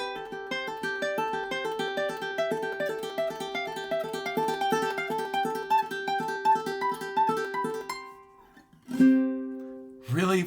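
A ukulele plays quick pull-offs that climb step by step up the fretboard in a fast, bright, bouncing run of plucked notes, then a couple of strummed chords ring out at the end.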